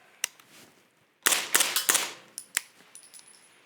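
A suppressed MP5 SD firing subsonic ammunition cracks out sharply up close, one shot then a quick volley of several reports, followed by fainter metallic clinks.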